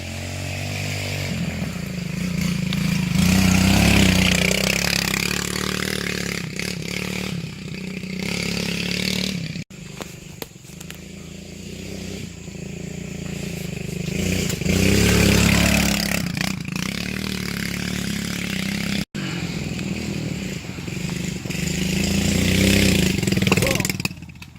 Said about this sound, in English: John says he's about to blow this rut, dude. 350 pounds on a stock KLX 110.